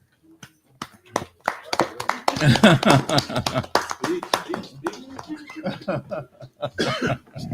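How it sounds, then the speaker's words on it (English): Scattered clapping from a small audience honouring a chef, with sharp, uneven claps mixed with chuckles and people talking nearby. "She deserves a round of applause today."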